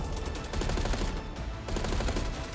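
Rapid gunfire from a Black Ops 6 video game trailer rattles in dense automatic bursts, loud and close, with a brief pause before the shooting resumes.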